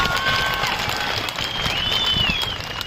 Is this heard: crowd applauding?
yes